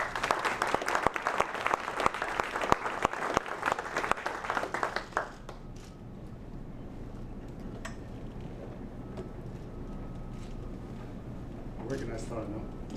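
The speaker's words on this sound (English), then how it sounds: "how about a big round of applause for our man of the hour" A crowd at a press conference applauds Eduardo "Eddie" Najera, with dense steady clapping for about five seconds before it fades into quiet room tone and faint stray sounds.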